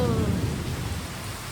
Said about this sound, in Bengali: আর বেশিক্ষণ হবে না এই বৃষ্টি। তবে এখনো মেঘ ডেকেই যাচ্ছে, ডেকেই যাচ্ছে, বিদ্যুৎ চমকাচ্ছে